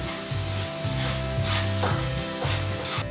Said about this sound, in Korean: 지글지글 끓여주면 완성!